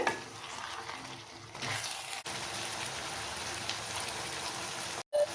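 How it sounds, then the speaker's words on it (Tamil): Vegetables sautéing in hot oil in a pan for sambar, a steady sizzling hiss with occasional stirring noises, close and continuous, briefly interrupted near the end. "வெஜிடபிள்ஸ் எல்லாமே எண்ணெயில் நல்லா வதங்கட்டும் அந்தளவுக்கு வதக்கி விடுங்க"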